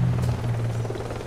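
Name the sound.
helicopter in video game Deadlight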